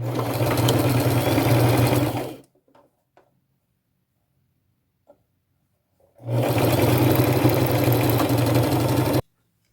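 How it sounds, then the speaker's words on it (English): A sewing machine stitching a hem on thrift store clothing runs loud and close in a steady, fast mechanical whir, stops for a few seconds of near silence with faint clicks, then starts up again at full speed. "continue sewing until my gap is closed"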